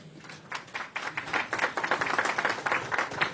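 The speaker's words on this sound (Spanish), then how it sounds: "Las palmas fuertes una vez más, por favor, para él." A small audience gives a round of applause for Marco Cárdenas at a municipal certificate ceremony, quieter, moderately distant claps with a loose, uneven rhythm lasting a few seconds.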